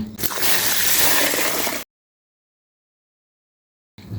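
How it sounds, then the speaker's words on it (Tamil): Rice flour grains are rinsed and squeezed by hand in water, giving a loud sloshing, squishing wash for under two seconds, then silence before the sloshing briefly resumes. "இந்த மாதிரி நல்லா கையில் நசுக்கி விட்டு நல்லா அழுக்கு போகிற அளவுக்கு நல்லா கழுவிடலாம்"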